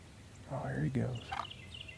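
A wild turkey gives one rattling gobble at middle distance, a quick burst of warbling notes against quiet outdoor background, with faint higher chirps trailing afterward.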